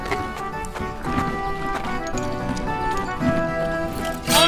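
A horse's hooves clip-clopping in a steady rhythm beneath a busy, tonal background of music or other sound, with a louder burst at the end.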